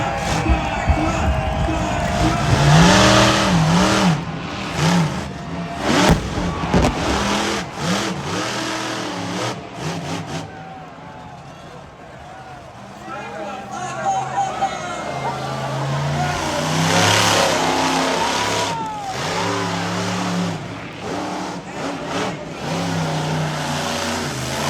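Cyclops monster truck engine revving at an Irwindale Speedway exhibition, loud rising and falling roars in bursts over a noisy crowd, with an announcer talking throughout.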